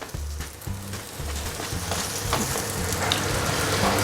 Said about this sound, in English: Just going to finish roasting them off in here.